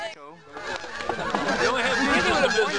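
Several geese honk in overlapping raucous calls, close and growing busier, with a person's voice briefly heard at the start.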